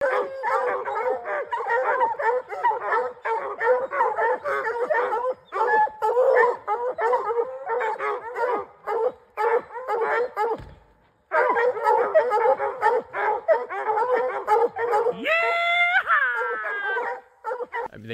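A pack of at least ten hunting hounds bays and howls continuously at close range, on a road where they have treed a bobcat, with a few short pauses and a rising yelp near the end.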